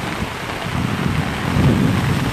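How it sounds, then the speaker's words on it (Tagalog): Heavy rain pours down with rumbling thunder on a beach front, a steady loud wash that swells louder toward the end, with no voices. "Kasi ang lakas ng ulan."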